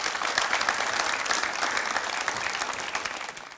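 An audience claps steadily throughout, a dense continuous applause from a seated crowd at an interview event, fading slightly toward the end.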